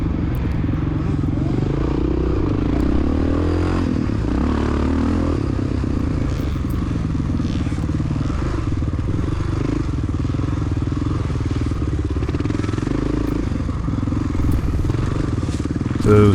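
A Honda XR600R dirt bike roars continuously at close range during a cross-country race, with its engine loud and steady throughout and wind noise and clatter mixed in.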